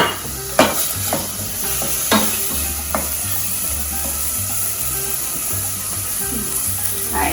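Chopped red sweet pepper sizzles in a hot pan, with a spoon scraping and stirring and a few louder knocks against the pan over a steady frying hiss.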